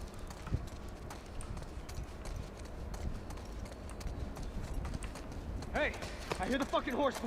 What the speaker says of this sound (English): I hear the fucking horse behind you.